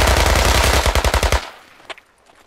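Close, loud machine-gun fire from the military shooter Squad, a rapid burst of about a dozen evenly spaced shots that cuts off abruptly, followed by a faint single pop in the tail.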